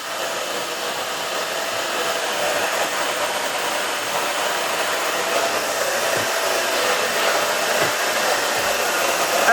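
A hair dryer runs on its low setting, blowing a steady, close, broadband whoosh continuously throughout, with no talking over it.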